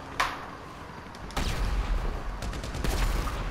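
Heavy automatic gunfire from a minigun in a video game, a sustained dense roar of rapid shots with a sharp burst near the start, then continuous loud firing and louder crackling bursts toward the end.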